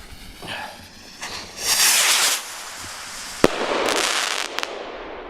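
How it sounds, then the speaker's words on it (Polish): Low-flying firework rockets with shells whoosh upward with hissing bursts, followed by a sharp bang and crackling, sparkling effects, moderately distant and loud, with no talking. "Nisko lecą, dość głośne, te efekty, no powiem wam, jak na rakiety z pociskami, są fajne."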